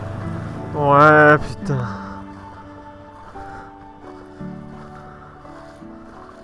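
A motorcycle plunges through a river crossing in Mongolia, one loud splash near the start that dies away into quiet, with a voice briefly exclaiming afterward.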